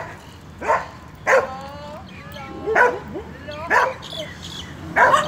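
A dog barks repeatedly, about five sharp yips and barks spaced a second or so apart, fairly close, with some whimpering tones between.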